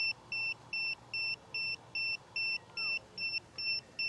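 A DJI Inspire 2 remote controller beeps during calibration: repeated two-tone electronic beeps pulse steadily, about two per second, clear and continuous over faint low background hum.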